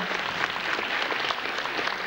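Audience applause at an anniversary jubilee concert, a dense, steady wash of clapping from a large crowd that holds evenly for the whole short stretch, fairly loud and without talk.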